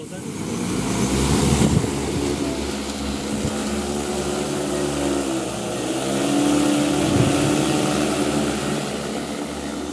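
An agricultural drone flies about three meters above a field while spreading fertilizer, its propellers giving a steady, loud whirring drone that swells and eases as it passes, with people talking faintly underneath.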